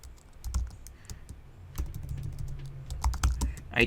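Rapid keystrokes on a computer keyboard as a text prompt for an AI image generator is typed out, irregular clicky taps in short bursts, close and fairly quiet, with no voices.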